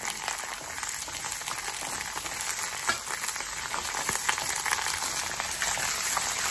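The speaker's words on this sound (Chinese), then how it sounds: "来，鸭子放进去煎， 煎这个鸭子主要是去除它的腥味啊，" Pieces of duck fry in a pan over medium heat with a dense, steady sizzle and crackle, constant and close, with occasional sharper pops and no talking.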